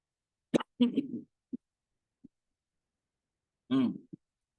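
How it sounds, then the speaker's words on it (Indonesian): A couple of short coughs and a throat clearing sound close by, separated by silence, with a few faint clicks. "agak batuk"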